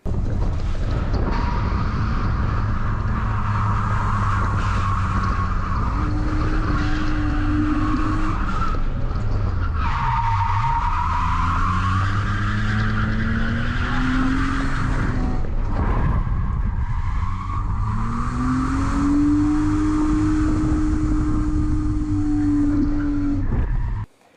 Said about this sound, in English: plant my foot down in third gear, and it just bogs down and the revs just drop and drop and drop